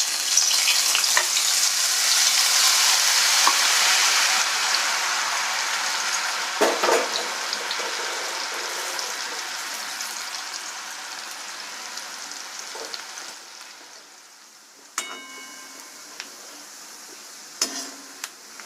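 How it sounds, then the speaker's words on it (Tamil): Boondi batter droplets fry in hot oil, giving a loud, bright sizzle that gradually settles into softer bubbling, with a few clinks of a ladle or spoon near the end. "இதே மாதிரி பூந்தி எல்லாத்தையும் பொரிச்சு எடுத்துக்கலாம்."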